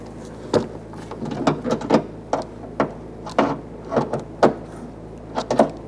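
Fasteners on a Chrysler 300 trunk lock actuator are tightened by hand, producing a series of close, short ratcheting clicks and scrapes in irregular bursts.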